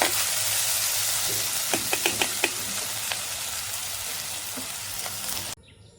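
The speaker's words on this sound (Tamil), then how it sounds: "வெங்காயம் நல்லா பொரிஞ்சு வருது" Onions fry in oil in a pan at a village kitchen with a loud, continuous sizzle and a quick run of spatula taps midway. The frying stops sharply just before the end.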